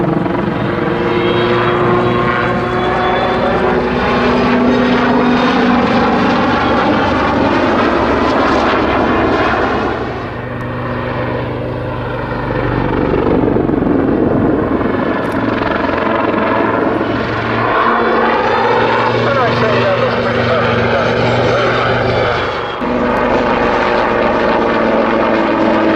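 Military helicopter performing a zoom climb ahead of an aerobatic backflip, a loud continuous rotor and turbine roar with shifting pitch as it pulls up, close and steady throughout with no talk.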